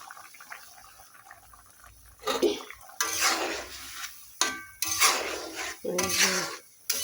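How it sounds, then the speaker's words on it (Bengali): Chhena, fresh cottage cheese, is poured into potato curry in a pan, giving bursts of loud wet splashing and utensil clatter separated by brief quiet pauses. "আর এখন আমি ছানাগুলো ঢেলে দিব এই আলুর মধ্যে।"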